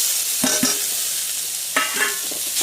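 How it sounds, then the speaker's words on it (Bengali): Maggi noodles with tomato being stirred and fried in a pan, with a steady soft sizzle broken by a few distinct scraping stirs near the start and again toward the end, with no talking. "আর ভালো করে ম্যাগির সাথে নাড়তে হবে।"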